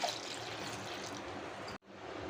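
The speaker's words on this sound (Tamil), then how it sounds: "ரெண்டு டம்ளர் தண்ணி ஊற்றுறேங்க" Two tumblers of water poured into a cooking pot, a steady close pour lasting about two seconds before it cuts off abruptly.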